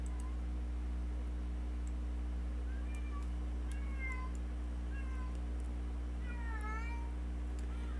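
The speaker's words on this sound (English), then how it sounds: "Sorry, my cat. She was quiet all day." A pet cat meows several times in rising and falling calls, moderately close, over a steady low hum and background noise.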